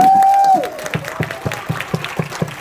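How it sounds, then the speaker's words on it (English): A single loud whistle-like cheer opens, then scattered claps and whoops from an International Women's Day audience, fairly sparse and rhythmic, fading slightly. "let's give ourselves a huge round of applause"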